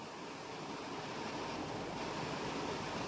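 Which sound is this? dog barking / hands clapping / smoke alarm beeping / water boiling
water boiling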